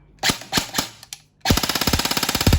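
An E&C 827 Gen2 airsoft rifle shooting in semi-auto: a few spaced single clicky shots, a short pause, then a quick run of sharp, evenly timed snaps, close and crisp with no talking.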